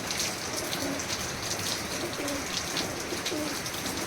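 Teddy pigeons of a Chandrakhani bloodline coo inside a loft, low repeated cooing phrases rising from a steady hissing, rain-like background.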